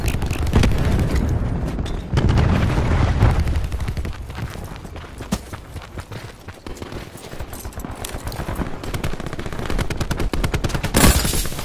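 Cluster grenades explode in Call of Duty Black Ops 4 during a jungle team deathmatch, a dense run of loud, rapid blasts and bangs crowding together with gunfire-like cracks throughout.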